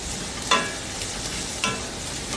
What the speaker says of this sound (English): we're just going to be sauteing this a little bit, okay, till it gets a little light brown